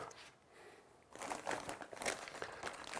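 Crinkly wrapping peeled off dino beef ribs, quiet, close crackling and rustling that starts after a second of near silence and continues in uneven bursts.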